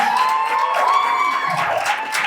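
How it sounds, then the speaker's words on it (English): A dense, steady round of applause fills an expo hall, with crowd cheering and raised voices mixed into the clapping throughout. "One more round of applause, please, for Izithelo."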